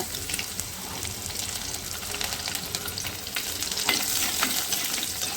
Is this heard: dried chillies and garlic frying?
yes